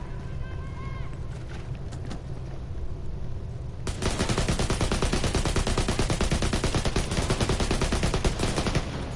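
An AR rifle fires in the video game The Division 2, with a few scattered shots and then a steady, rapid, continuous stream of automatic fire that carries loudly through the rest of the stretch.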